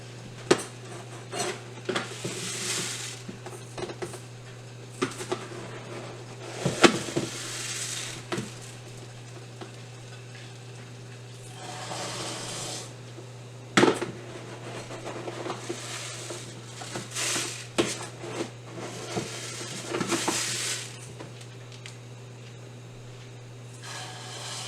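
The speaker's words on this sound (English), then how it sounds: "Now I'm going to dump in 2 cups of rice" Dry rice, two cups of it, poured into a cooking pot for fried rice, giving scattered patters and metallic clinks of pot and utensils over a steady low hum, moderately close with no talking.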